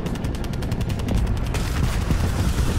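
Rapid video game gunfire, dense and loud, a continuous burst of shots fired while aiming for a headshot, up close with no talking.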